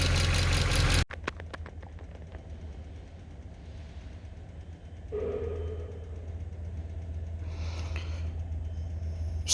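A 2011 Mercedes E63 with 130k km idles steadily while warming up, a low rumbling drone running continuously at moderate level, after a brief louder burst at the start and with a slight rise in level midway.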